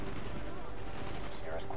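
Gunfire in the Call of Duty: Black Ops single-player campaign, with dense, continuous bursts of shots and a heavy machine gun firing, loud and sustained across the whole moment with talk over it.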